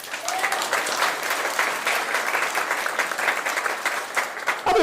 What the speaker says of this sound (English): Guys, round of applause for him.